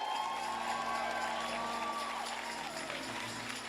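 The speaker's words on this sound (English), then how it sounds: "Give him a loving round of applause." A crowd at a Saturday morning community forum applauds and cheers with a few whoops, a sustained, even wash of clapping at a moderate distance.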